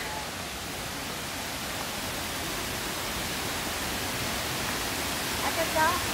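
Hinulugang Taktak waterfall in Antipolo, a steady broadband rush of falling water heard from nearby, continuous and even throughout with no break.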